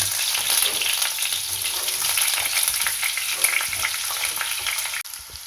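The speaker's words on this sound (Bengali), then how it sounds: "কিন্তু আলুটা ভাজবো, অনেকটা তেল আমি কমিয়ে নিয়েছি।" Potatoes fry in a reduced amount of oil with a steady, bright sizzle that stays close and even throughout, ending with a small knock.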